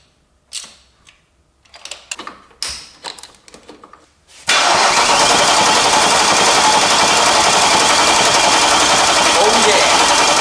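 A BMW E39 540i V8 cranks and fires up, then settles into a loud, steady run; before the start, a voice talks briefly between short clicks and clatters.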